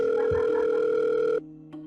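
Steady telephone call tone heard while placing a phone call, a continuous sustained tone close and clear, stopping abruptly near the end before a brief softer second tone.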